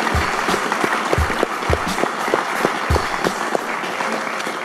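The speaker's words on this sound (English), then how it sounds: "please give them a round of applause" An audience applauds at the close of a presentation, a steady dense wash of clapping that holds throughout with a few sharper individual claps standing out near the front.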